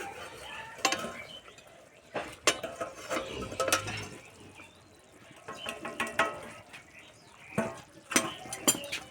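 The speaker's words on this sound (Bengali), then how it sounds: "এবার আমি চাপাটা খুলে দেব।" A lid comes off a cooking pot of simmering egg korma, giving several sharp metallic clanks and scrapes spread across the clip, with faint sizzling between them.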